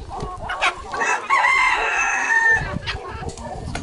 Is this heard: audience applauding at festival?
no